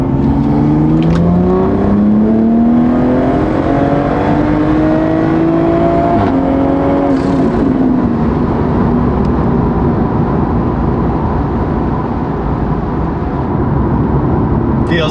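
A tuned Toyota Supra accelerates hard and loud, engine rising in pitch through the gears, with the rise breaking at each shift where a pop sounds.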